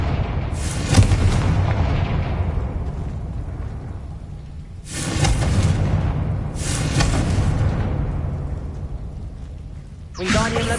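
Confringo fire blast spell explosions in Hogwarts Legacy, several sharp booming bursts at spaced intervals, each with a crackling rush that decays into a low rumble, over continuous background game noise.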